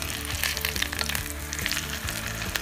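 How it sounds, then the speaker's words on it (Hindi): Veg roll tikki frying in oil in a pan just after being flipped, a steady, dense sizzle with crackling spatter running throughout, close and loud with no talking. "अब हम दूसरी साइड से भी इसे अच्छे से फ्राई कर लेंगे गोल्डन ब्राउन कलर होने तक।"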